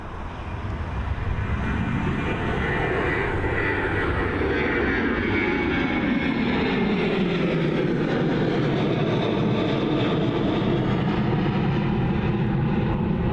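A departing Seville flight at Dublin Airport roars loud and steady, broad jet engine noise with a slowly shifting pitch sweep as the aircraft passes close by, filling the whole stretch without speech.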